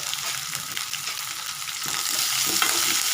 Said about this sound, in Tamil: இப்போ நல்லா வதங்கிட்டுங்க